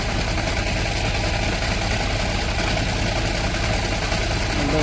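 A tractor engine idles steadily at mid volume while pesticide is sprayed over a cumin field, its hum and vibration continuous and unbroken throughout, with no voices.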